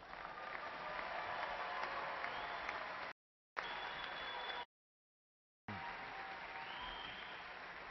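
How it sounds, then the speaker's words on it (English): Steady applause from a large audience honoring graduates at a spring university commencement, a dense sustained clapping broken by two short gaps of silence. "please honor these graduates with a round of applause"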